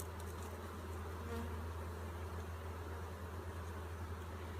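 A honeybee swarm hums continuously at a hive while being hived, a dense, close, steady buzz with no voices.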